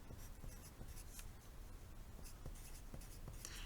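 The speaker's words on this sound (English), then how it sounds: "so I'm just going to write them down." A pen scratches across paper in short, rhythmic strokes while maths working is written out, close and quiet with no speech.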